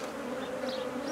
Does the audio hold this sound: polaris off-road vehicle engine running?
no